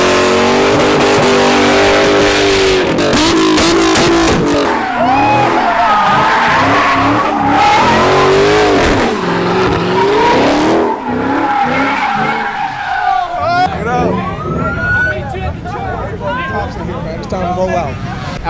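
Loud, continuous engine revving and tire squeals from many sports cars, including Alfa Romeos and Mustangs, with a crowd chattering and shouting underneath throughout.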